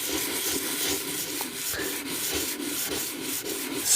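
Sandpaper rubbed steadily over a Chinese stone seal, a continuous close gritty scraping with repeated back-and-forth strokes and no talking.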